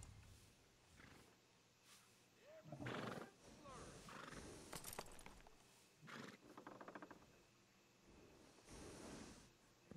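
A horse in the Red Dead Redemption 2 game neighs and whinnies in several loud bursts, with hoof clip-clops and quiet voices in between.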